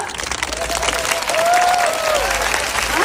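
Audience clapping at the Osaka Expo 2025 as a performing group is welcomed, dense steady applause from a large crowd filling the whole moment, with a faint high whistle-like tone drifting over it.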